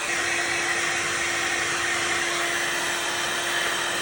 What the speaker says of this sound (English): just need to burn off a bit of the residue with a heat gun